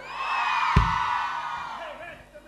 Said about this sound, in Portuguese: O grito das mulheres!